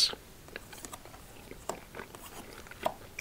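Chewing gum worked in the mouth up close, soft wet clicks and small crunchy snaps scattered irregularly at low volume in a quiet room, no talking.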